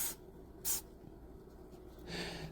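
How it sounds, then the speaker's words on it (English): Dawn dish soap being sprayed at gnats indoors: two short hissing spray bursts, a brief one near the start and a sharper one shortly after, then a softer, longer hiss at the end, alone with no talk. "if you hear a spraying sound in the background,"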